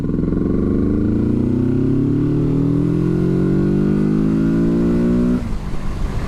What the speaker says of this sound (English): A little bit of a roll on, shall we? 20 miles an hour, third gear.